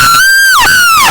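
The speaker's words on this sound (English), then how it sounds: "A horrific, blood-curdling scream, sounding so human." A loud, close, high-pitched scream in two drawn-out cries, each falling in pitch at the end, with nothing else around it.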